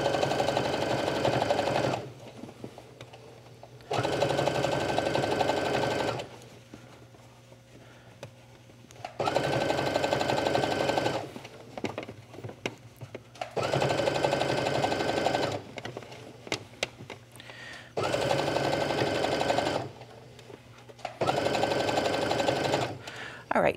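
A sewing machine stitching a seam on yoga pants runs in bursts of steady whirring hum, several runs separated by short pauses, close and loud, with someone speaking in the pauses.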